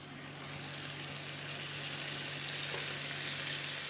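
Lean ground beef frying in olive oil in a skillet, a steady close sizzle that swells slightly after it hits the pan and holds evenly, with no talk.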